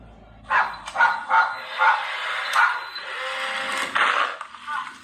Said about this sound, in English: Teddy, why you barking at me, Coda?